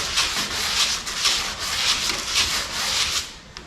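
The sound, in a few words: sanding a truck cab corner with 80 grit sandpaper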